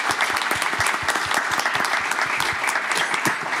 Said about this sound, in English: I would like to ask you to give a round of applause to all the panelists